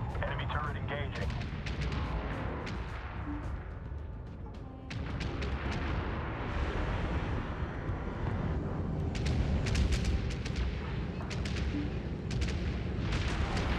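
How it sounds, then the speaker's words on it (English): An enemy turret firing in the Homeworld 3 video game: rapid bursts of sharp gunfire cracks over a dense rumbling battle bed, fairly loud and clustered in volleys, with radio-style voices in the mix. "Enemy turret engaging."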